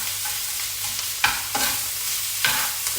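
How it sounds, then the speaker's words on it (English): Fried Vietnamese rice noodles (hu tieu xao) are stirred in a hot pan, giving a steady sizzle with a few sharp scraping strokes of the utensil, close and loud, with no voices. "Keep stirring it."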